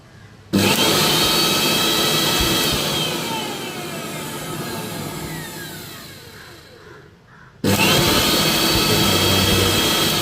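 A repaired electric mixer grinder runs loudly with a steady roaring whir, stopping for a moment before starting up again at full loudness.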